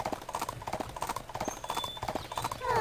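Horse hooves clip-clop at a steady, even gait in the Barbie Riding Club video game, a regular near rhythm running throughout with a faint chime near the end.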